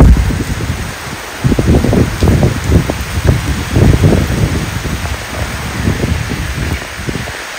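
Heavy rain pours down during a storm, a loud, dense, continuous roar of drops with uneven surges of spatter close by and no voices.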